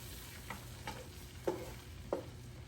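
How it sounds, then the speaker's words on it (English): Garlic and onions being stirred in a Power XL electric cooker, a faint frying sizzle beneath a few soft utensil scrapes spaced about half a second apart, with no talk. "I'm gonna just stir that up real good"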